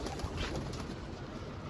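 A pigeon coos during a bird hunt outdoors, soft low hooting calls under a steady wash of wind and background noise, no voices present.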